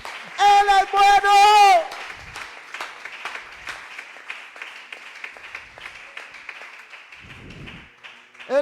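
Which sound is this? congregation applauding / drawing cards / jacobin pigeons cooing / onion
congregation applauding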